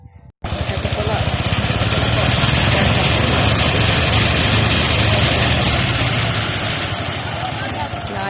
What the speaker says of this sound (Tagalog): Naayos po po yung makina. Guys, start po sila naggiling ng palay.